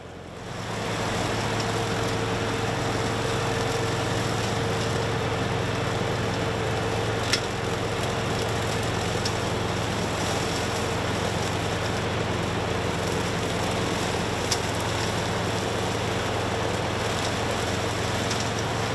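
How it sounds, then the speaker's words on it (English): A tractor engine runs steadily while pulling a 10-foot batwing mower along ditch banks and a barn lot, a constant droning hum with a low tone, close and continuous throughout with no speech. "You can back that mower way up under a tree where your tractor won't fit."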